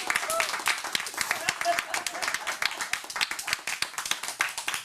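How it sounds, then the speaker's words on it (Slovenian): Applause at a news round-up segment about a €55 million project, a small audience clapping steadily with dense, slightly uneven claps close by for the whole stretch. "Aplavz za 55 milijonov evrov"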